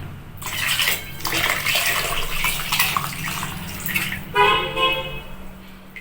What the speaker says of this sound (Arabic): هحط اللبن.